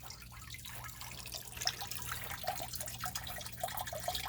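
Soft, irregular drips of water falling into a basin of a simple hydroponic setup, close by, over a steady trickling and faint background hum.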